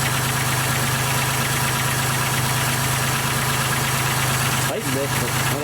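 A 1996 Pontiac Grand Prix 3.1 V6 idles loud and close with a steady droning hum and fine rhythmic ticking, just after a water pump replacement, with a slight disturbance near the end.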